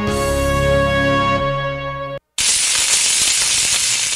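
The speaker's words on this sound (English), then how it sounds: "That's the sound of your skin cooking." A sizzling hiss of skin cooking in summer heat in Florida erupts after a sustained tonal intro and a brief silence, then holds loud and steady to the end.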